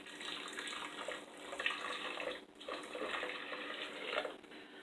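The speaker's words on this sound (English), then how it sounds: "To that, I'm going to add 12 ounces of very hot coffee." Very hot coffee poured into a blender, a steady close rushing stream of liquid running for several seconds with one brief dip midway, without talk.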